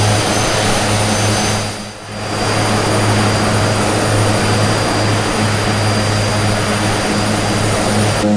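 Airplane engine in a flight simulator game, heading toward Mount Ağrı at around 17,000 feet, a loud, constant propeller-and-jet drone with a steady whine that dips briefly once before resuming.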